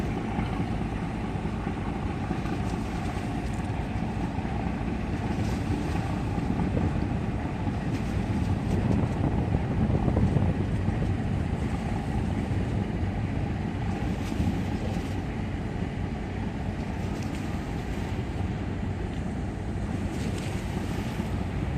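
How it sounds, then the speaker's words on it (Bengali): A Bangladeshi passenger launch, the Crystal Cruise, moves on a river, heard as a continuous broad rush of water and wind with a steady low engine rumble, loud and unbroken throughout. "ক্রিস্টাল ক্রুজের যে গতি দেখতে পাচ্ছি, সম্ভবত ক্রিস্টাল ক্রুজ মিতালি পাসকে ওভারটেক করে চলে যাবে।"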